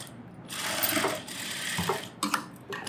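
Sewing machine stitching a blouse, a run of fast mechanical whirring and clatter that stops and restarts, close and moderately loud with no talk.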